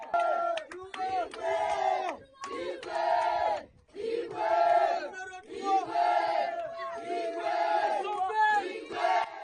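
A large crowd in Idiofa cheers and chants in loud repeated swells to welcome Moïse Katumbi, with massed voices rising and falling in rhythmic bursts close by.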